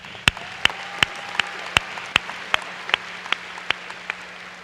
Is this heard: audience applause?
yes